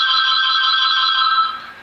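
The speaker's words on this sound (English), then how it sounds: "That is probably the loudest phone I've ever heard in my life." A very loud telephone ring, a steady piercing electronic trill that holds strong and then tapers off at the end, heard alone.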